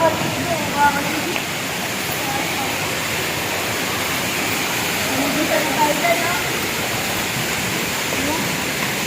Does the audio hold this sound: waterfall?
yes